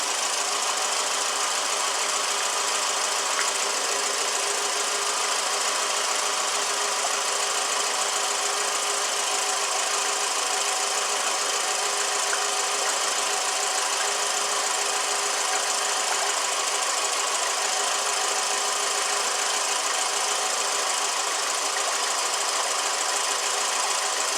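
A 2007 Toyota Camry engine runs steadily just after its first startup on a rebuilt motor, a constant loud broadband mechanical drone with a faint ticking knock, no talk over it.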